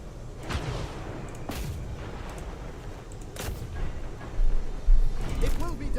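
Defensive towers firing in the Warhammer 3 strategy game, repeated booming artillery-like shots landing every second or two over a steady battle din, growing heavier near the end.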